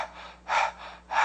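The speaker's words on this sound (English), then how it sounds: "So the other one is panting." A singer's panting breath exercise: two quick, forceful breaths in and out, sharp breathy huffs heard very close and loud with short pauses between, no words spoken.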